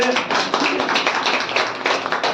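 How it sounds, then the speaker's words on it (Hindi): A church congregation claps for Jesus Christ, a dense, steady patter of many hands close by, with a voice speaking over it. "ताली बजाएंगे सब यीशु मसीह के लिए।"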